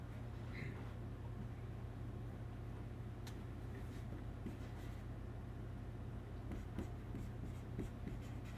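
Chalk or marker scratching across a board during a physics lecture on vibrations, faint and intermittent strokes over a steady low room hum.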